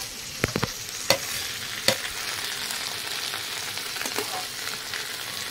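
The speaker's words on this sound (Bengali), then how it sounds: "এখন মশলাগুলো ছেড়ে দেবো। এখানে আছে জিরে, ধনে, আদা, লঙ্কা" Cumin, coriander, ginger and chili, plus Kashmiri chili powder, dropped into hot oil, giving a steady soft sizzle with a few sharp clinks and stirring scrapes, close and without talk.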